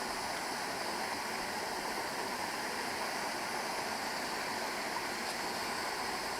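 Waterfall on the Sukha Moskovka river below a full lake, with water pouring over a partly man-made rock ledge as a steady, dense rushing roar, close and unbroken, with no voices.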